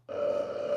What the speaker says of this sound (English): That was a glorious belch